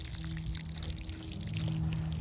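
Water dumped in a heavy clump from a watering can onto freshly planted lettuce and kale outdoors, a steady, dense gushing pour, close and continuous with no talking.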